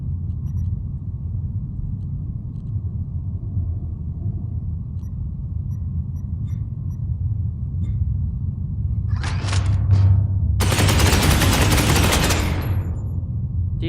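Gunfire in Space Hulk Ascension: two quick bursts near nine seconds, then a longer loud volley around eleven to twelve seconds, all over a constant low rumbling ambience.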